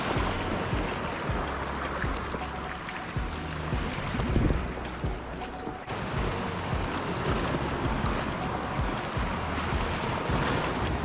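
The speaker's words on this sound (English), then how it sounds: "I don't know if you can hear it or not, but that wind has picked up quite a bit." Strong wind gusting at the Surfside jetty, buffeting loudly and continuously with a rushing, surf-like roar that swells and eases throughout.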